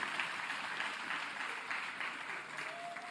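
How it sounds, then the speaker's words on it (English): A crowd at a provincial ANC political gathering applauds the South African Police Service, sustained dense clapping filling the space at moderate volume without letup. "let's give South African Police Service a big round of applause for the good work that they are doing"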